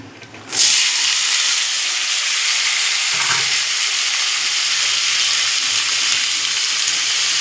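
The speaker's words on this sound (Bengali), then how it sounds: "এবার আঁচটা একদম কমানো, আমি এই সবজিগুলোর মধ্যে দিয়ে ভেজে নেব।" Vegetables hit hot ghee in a wok on low heat and burst into a loud, continuous sizzle that holds steady after the first second, with a soft scrape partway through.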